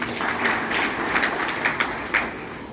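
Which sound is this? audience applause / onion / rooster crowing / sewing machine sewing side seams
audience applause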